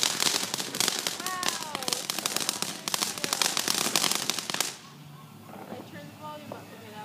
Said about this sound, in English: we can have some other fireworks going off.